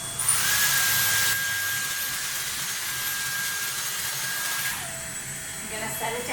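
A Dyson Airstrait hair straightener runs in boost mode as a loud, steady high-pitched blowing whine close by, with a shift in tone near the end.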